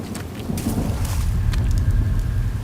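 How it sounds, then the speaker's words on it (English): A thunderstorm in the First World War video game 1916 The Unknown War: a continuous rumble of rain and low thunder, fairly loud and steady throughout, with scattered sharper crackles and no voices. "Thunderstorm, all the animals and stuff running around."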